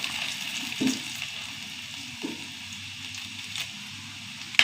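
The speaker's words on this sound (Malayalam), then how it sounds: "കുറച്ച് കടുകിട്ട് കൊടുക്കുക നാല് മണി ഉലുവ അര ടീസ്പൂൺ ഉഴുന്ന് വെച്ചു രണ്ട് വറ്റൽമുളക്" Mustard seeds, fenugreek, urad dal and dried red chillies frying in hot oil, a steady close crackling sizzle with a few small pops throughout.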